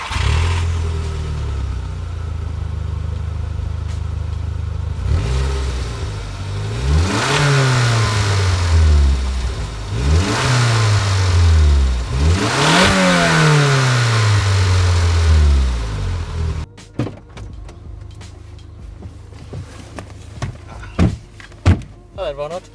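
Audi TT MK1 with the 1.8T engine revving repeatedly in loud rising and falling sweeps, three or four distinct throttle blips close by, then dropping to idle with clunks and knocks like a door at the end.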